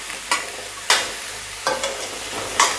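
Salted onions sauté in a pan for a Malvani clam masala, with a low sizzle and four distinct spoon scrapes at an uneven pace, heard up close with no speech.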